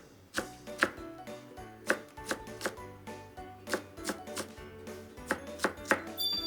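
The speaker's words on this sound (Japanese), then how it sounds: "5ミリ角ぐらいに切っていきます。" A kitchen knife dices a vegetable into 5 mm cubes on a cutting board, giving steady, rhythmic chops, about fifteen quick strikes heard up close in a quiet room.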